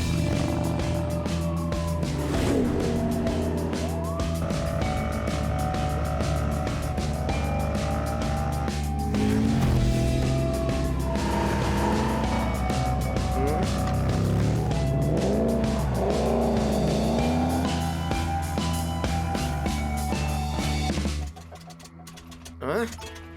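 A cartoon motorcycle roars away in a loud, sustained engine whine with rising and falling revs, screeching tires and siren-like tones, dense throughout before cutting off abruptly near the end.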